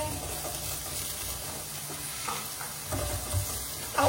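Eggplant sautés with garlic, onion, tomato and green chili in a pan, giving a steady close sizzle broken by occasional stirring clatters.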